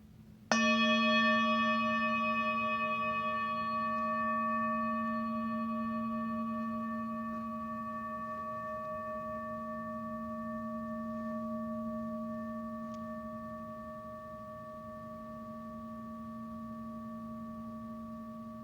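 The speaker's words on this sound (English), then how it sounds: "And now I'll sound the meditation bell and I'll start to guide us through the practice." A meditation bell is struck once and rings a clear, sustained tone with bright overtones. It fades slowly over many seconds in a quiet room, with no voice.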